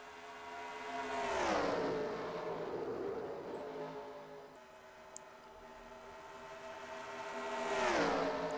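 Race cars pulling away at the green flag at Pocono in a racing video game, engines swelling as they pass close by, fading in the middle and then rising again with another revving pass.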